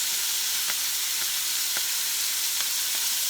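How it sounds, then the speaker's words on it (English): Chopped cabbage fries in bacon grease in a pot, a steady sizzle and hiss with a few sharp pops and stirring clicks scattered through it. "I went ahead and put some bacon grease in the pan, the pot, and I'm going to add the cabbage"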